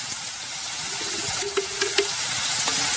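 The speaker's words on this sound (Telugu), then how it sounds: "ఇప్పుడు వీటిని బాగా వేగనిద్దాం." Green chilies fry in a pan for a spicy Telangana-style mutton curry, a steady close sizzling hiss broken by a few soft crackles and pops, with no one speaking.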